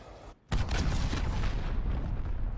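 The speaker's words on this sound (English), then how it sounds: "Allied cruise missile away." Cruise missile strike in Call of Duty Modern Warfare multiplayer: a brief quiet gap, then a sudden loud blast that rolls into a sustained, rumbling roar of explosions and debris.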